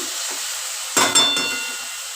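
Bottle gourd curry is stir-fried in a pan, giving a constant sizzle. Near the middle, two quick metallic clinks and scrapes from the spoon stand out. No one speaks.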